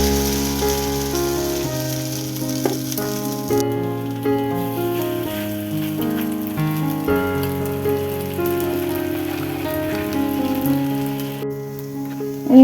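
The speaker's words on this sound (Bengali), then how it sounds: "এই তো পাকোড়াগুলো উল্টিয়ে পাল্টিয়ে ভেজে নিতেছি" Carrot noodle pakoras shallow-frying in a small amount of oil, a steady fine sizzle running continuously beneath louder instrumental music throughout.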